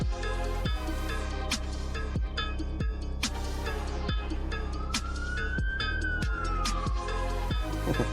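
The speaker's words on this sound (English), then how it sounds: "Nice siren sound too." A rising and falling siren-like tone glides over dense electronic music with sharp, rhythmic percussive hits.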